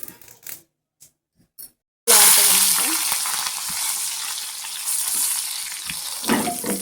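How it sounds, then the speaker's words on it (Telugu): Tempering of mustard seeds, coconut, turmeric and curry leaves in hot oil bursts into a loud, dense crackling sizzle after a few faint clicks and a short silence, then keeps spluttering steadily with occasional stirring scrapes. "పోపు అనేది మంచిగా వేగిపోయింది."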